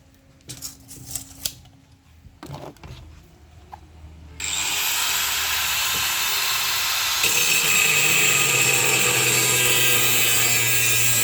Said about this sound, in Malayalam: ഞാനിത് കട്ട് ചെയ്യാൻ പോവാണ്.